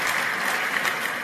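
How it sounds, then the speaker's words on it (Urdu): Applause from a large audience at a religious lecture, a short dense burst of clapping that stays loud and even throughout, with no speech over it. "آپ کے لیے تالیاں بھی آپ کا حق بنتا ہے۔"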